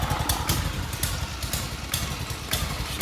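A RATO 9.0 outboard motor on a 1973 Lund S-18 Resorter boat runs close by in an even, rapid, putting rhythm with some mechanical clatter, alone without voices.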